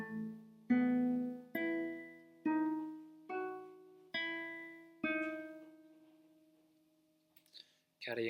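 A classical guitar plays one bar of Birds Flew Over The Spire in fourth position, with seven clear plucked notes at a moderate, even pace, the last note left ringing and fading, then a short scrape at the end.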